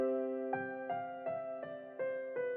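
A sad piano melody loop built in FL Studio 20, stepping downward with sustained chord tones beneath; six evenly spaced note attacks ring out clearly with no voices.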